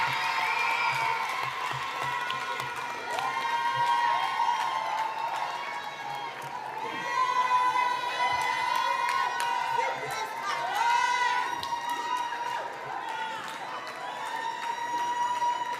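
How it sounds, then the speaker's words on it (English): A crowd at a schools' Black History elocution contest applauds and cheers for the first-place primary school winners, with sustained clapping and children's shouts over steady crowd noise, alongside continuous talk. "I need not say give them a round of applause because you're doing a great job at it already."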